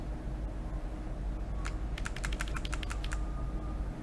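A computer keyboard types while lines of C++ code are deleted: a short, quick burst of crisp key clicks sounds close and clear over a faint room hum, with no voice.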